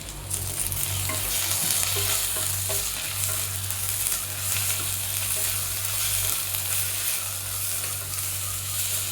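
Freshly pounded ginger garlic paste sizzles in frying masala for pudina rice, a dense, continuous crackle with scraping stir strokes and a low hum beneath, close and fairly loud.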